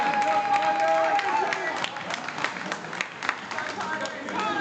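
A wrestling crowd at a pro wrestling show, a broad roar of cheering and clapping with scattered sharp claps and shouts, while a commentator talks over it.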